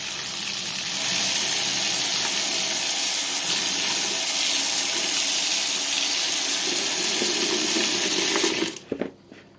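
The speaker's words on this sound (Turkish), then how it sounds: "Dediğim gibi bol suda yıkayacağız." Plenty of running tap water gushes steadily into a sink during washing, a loud continuous rushing hiss that cuts off abruptly near the end with a few clatters.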